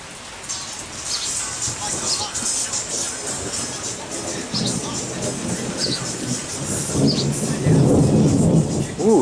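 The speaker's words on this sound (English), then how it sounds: "Ooh, nice rolling thunder, power rain." Low thunder rolls and rumbles over steady rain pattering on surfaces, building louder toward the end.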